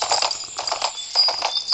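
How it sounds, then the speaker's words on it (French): Horse galloping in the Alexandra Ledermann riding video game: rapid, rhythmic hoofbeats in quick clusters, close and fairly loud, with no voices. "Donc cette fois, on va aller au grand galop."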